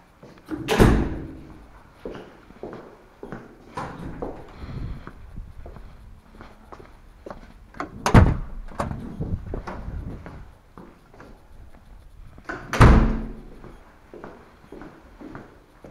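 Doors in a studio opening and closing, giving three heavy thuds or slams at intervals with quieter knocks, shuffles and movement between them, moderately near and with no speech.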